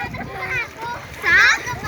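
River water splashes in short bursts as children shout and chatter excitedly nearby, the splashing mixed under their voices.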